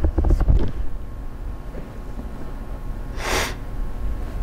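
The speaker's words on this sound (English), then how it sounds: "Sorry about the sniffles." Several short nasal sniffs in a breathy burst near the start, then a louder sharp sniffle a few seconds later, recorded close to the mic over a low background hum on a cold winter day in Michigan.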